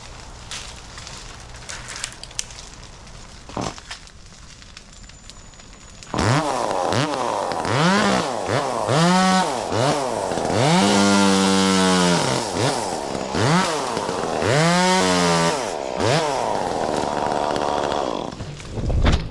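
Chainsaw cutting overhanging tree branches, starting after quiet knocks and rustling, then running loud and close with repeated revving surges rising and falling as it bites into the wood, holding a steady high roar in between.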